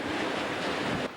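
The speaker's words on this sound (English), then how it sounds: "Look at this rain and wind and water coming across here." Roaring Hurricane Wilma wind and rain gusts in Plantation Acres, a dense continuous loud rush of wind noise and driving water with no pauses, no voices.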